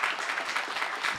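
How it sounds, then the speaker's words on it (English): A brief burst of dense applause from a crowd at a graduation hooding ceremony, even and continuous, heard at a moderate distance. "Final round of applause."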